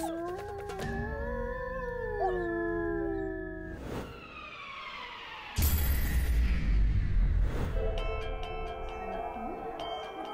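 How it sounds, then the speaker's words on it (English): A gray wolf howls in long, drawn-out tonal wails that rise and slide, with several overlapping howls and a burst of rougher, noisier sound partway through. "Here we see a gray wolf, one of the world's top predators."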